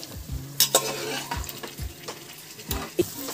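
Boiled vegetables get tipped into masala in a pan for pav bhaji and stirred, giving repeated scraping spoon strokes and clinks over a soft sizzle, close and rhythmic without talk.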